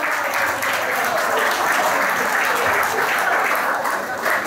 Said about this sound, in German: Applaus bitte für unsere Organisatorin.